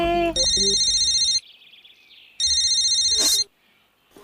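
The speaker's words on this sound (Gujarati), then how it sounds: "જાણે ક્યાં ફોન વાગે છે પાછો." A telephone rings in two loud, electronic trilling bursts separated by a short pause, close and alone.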